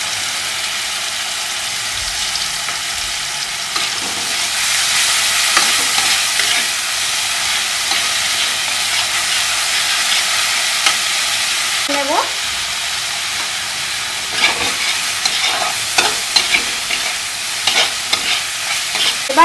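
Green chillies fry in a pan of spice paste for a katla fish curry, giving a constant close sizzle broken by frequent scraping stirs and utensil knocks, with no talk.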